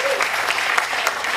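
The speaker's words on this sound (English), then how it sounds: "And give her a big round of applause." Applause from an audience at a mayor's event about a tower renovation, a dense steady patter of many hands clapping with no voices over it.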